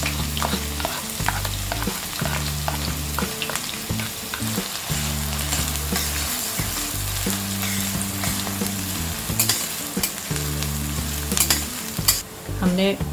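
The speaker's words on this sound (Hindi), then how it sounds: "हमने 5 से 6 मिनट अनियन को फ्राई कर लिया है।" Finely chopped onions frying in a pan with cinnamon, bay leaves, black pepper and cloves, a steady close sizzle with occasional stirring scrapes over soft background music.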